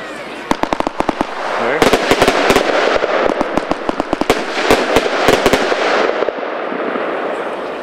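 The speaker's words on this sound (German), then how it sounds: "Wir schießen hier alle drei gleichzeitig." Three Toschpyro fireworks set off together: a dense, loud barrage of rapid crackling bangs and sharp reports over a roaring hiss, continuous for several seconds before tapering off.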